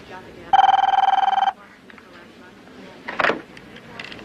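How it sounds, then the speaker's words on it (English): A telephone bell rings in one rapid trilling burst of about a second, loud and close, followed by a quieter stretch with a brief clatter and faint background sounds. "Kurt, getting to know the sound of your ring."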